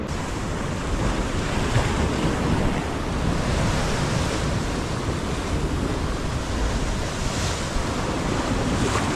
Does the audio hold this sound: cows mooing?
no